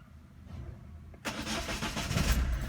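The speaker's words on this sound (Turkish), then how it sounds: "Arkadaşlar şu anda arabamız çalıştı." A car engine cranks and catches after the ignition is switched back on during fault-code diagnostics, starting abruptly and settling into a steady mid-pitched running sound, close and alone.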